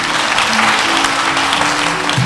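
A studio audience at a French spelling contest breaks into dense, steady applause that fills the room evenly from start to finish.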